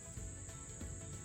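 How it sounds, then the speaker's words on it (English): A horsefly drones around someone's head outdoors, a continuous high buzz held close and steady with no talk. "there's a horsefly. So if you want to kill it, I don't know where it's at. it's buzzing around my head"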